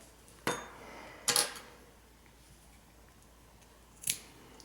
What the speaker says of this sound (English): You can go ahead and cut this yarn tail.